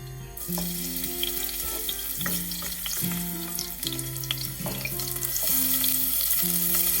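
Garlic frying in about four tablespoons of olive oil for an Italian beach-style dish, a loud steady sizzle alongside a repeating two-note tonal pattern and scattered clinks.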